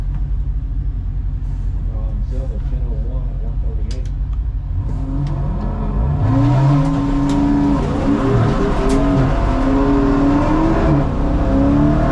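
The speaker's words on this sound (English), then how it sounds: "Burnout. Warm them up good." A bracket-class drag racing car does a burnout at the strip to warm its tyres, the engine roaring loudly and steadily, then its revs rising and sweeping higher about halfway through with a harsher, fuller roar.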